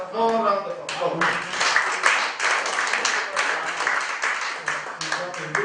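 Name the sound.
round of applause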